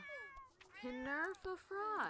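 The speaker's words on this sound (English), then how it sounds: "I don't know why the cat is crying." A cat in The Sims 4 gives several drawn-out, whining meows in quick succession, loud and close, with rising and falling cries and no talking.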